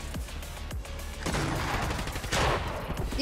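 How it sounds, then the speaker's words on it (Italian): Gunfire in the video game Fortnite: rapid bursts of shots crackle through a dense game soundscape, loud and continuous with sharp impacts. "Appena la vedo sparo."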